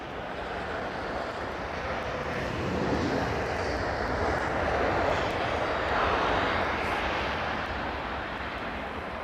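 A fixed-wing airplane comes in low to land with its landing gear down, its engine roar broad and steady throughout, swelling slightly as it passes close by, with some wind noise.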